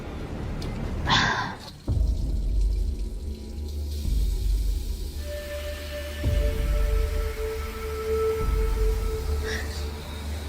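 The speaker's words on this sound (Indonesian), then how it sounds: "Pasti keran air nggak ditutup rapat sama dia." Water runs steadily from a tap left open in a bathroom, a continuous hiss and rush with shifting tone and a few clunks, no voices over it.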